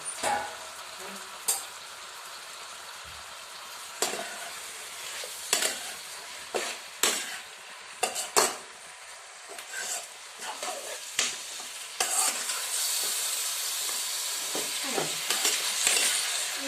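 Chicken for a stew is stirred and fried in a pan. A constant sizzle sits under repeated scraping and clanking of a utensil against the pan, close up, and a few faint voices can be heard now and then.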